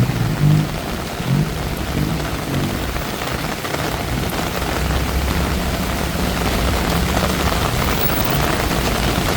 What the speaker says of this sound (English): when you get rain like this, the traffic directly gets to a standstill